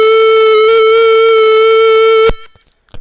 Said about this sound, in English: This is 440 hertz.